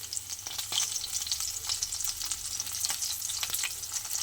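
A fish head fries in a pan, crackling with a steady, dense hiss and sharp spitting pops that carry on continuously at close range with no talk.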